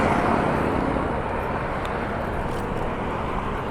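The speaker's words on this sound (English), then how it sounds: "One of our buses, the Deuce, heading off somewhere" A Las Vegas "Deuce" bus pulls away on the Strip near Harmon, its engine a broad, steady roar that sits loud and close, then eases off slightly as it moves away amid street traffic.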